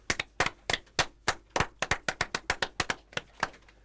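Scattered hand claps from a small audience, about twenty distinct sharp claps in an uneven, sparse rhythm, close and moderately loud with no talking.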